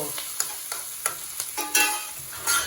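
Tomatoes fry in a pan, sizzling steadily while a spoon stirs and scrapes in short, regular strokes, close and moderately loud, with no voices.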